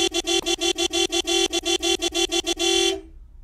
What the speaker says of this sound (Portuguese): Olha, tem uma buzina.